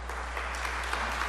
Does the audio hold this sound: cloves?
no